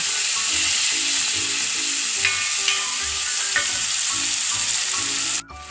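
Tomatoes for a Kerala-style prawn roast fry in a pan, giving a loud, even sizzle with scraping stirs throughout, and no voices.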